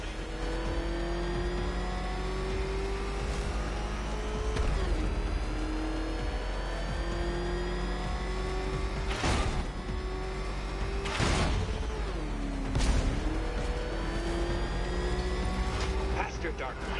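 A car engine in Batman: Arkham Knight revs steadily and loudly, with its pitch rising and falling through several surges and sharp bursts, while a voice talks over it.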